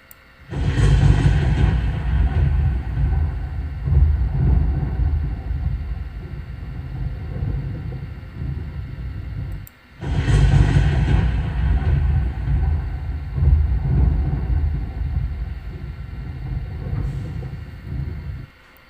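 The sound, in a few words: thunder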